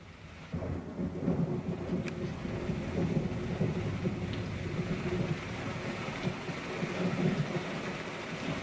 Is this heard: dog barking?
no